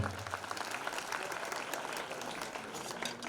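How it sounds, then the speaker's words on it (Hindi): An audience at a community talent award ceremony in Jhalawar claps steadily to welcome a girl's solo dance, a dense, even wash of applause lasting throughout with faint voices mixed in. "इस बालिका का तालियों की गड़गड़ाहट के साथ स्वागत और अभिनंदन।"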